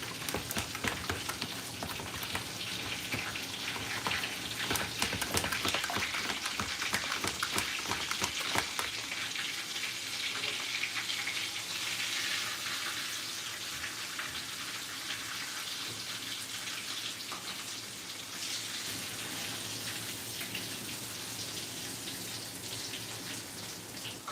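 Eggplant slices frying in a skillet while eggplant Parmesan is cooked, giving a steady, close sizzle with crackling spits and a few faint stirring clinks. The sizzle runs on alone without talk.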